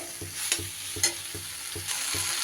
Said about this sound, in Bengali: এইবার মশলার সাথে সুন্দর করে সব কিছু একটু কষিয়ে নেব